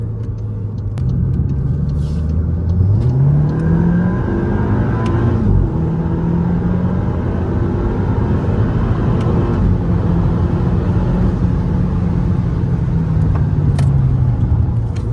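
A tuned car accelerates hard on a dyno, its engine note climbing and holding in a loud, steady drone with rising and falling pitch throughout.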